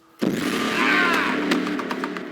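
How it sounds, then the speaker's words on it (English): A plucked zither string rings out after a sharp attack, its shimmering tone sustaining and slowly fading over a couple of seconds. "Oh, there's the zither."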